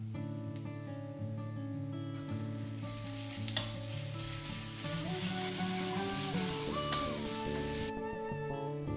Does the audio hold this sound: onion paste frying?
yes